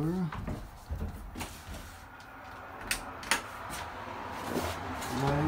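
A sliding barn door in an off-grid tiny house rolls and knocks in a few short, quiet movements, with faint voices in the background.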